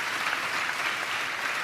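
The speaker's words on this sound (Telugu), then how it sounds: "చప్పట్లు కొడుతూ ప్రభు వారికి స్తోత్రాలు చెప్తాం" A church congregation claps their hands in praise of the Lord during a sermon, a steady wash of many hands heard at moderate loudness from a distance, with no talk over it.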